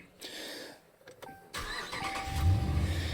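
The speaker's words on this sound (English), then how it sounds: "You start up the truck." A Dodge Ram pickup truck starts outdoors: a brief cranking whir, then the engine catches and settles into a steady, rumbling idle close by.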